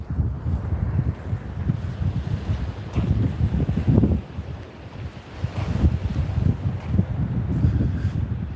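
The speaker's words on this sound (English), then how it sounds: "the waves are kind of flat tonight" Gentle, flat ocean waves washing onto a beach at night, a low continuous rumble of surf swelling and easing under steady wind noise, with no talk.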